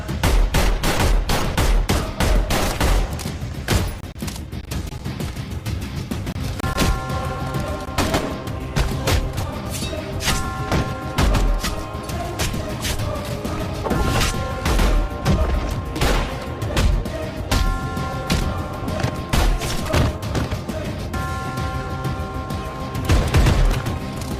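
Rapid bursts of gunfire and automatic weapon fire blast through a Hindi action movie scene, loud and dense, with booms and crashes. Heavy volleys repeat through the whole stretch, with short gaps and tonal bits of score between them.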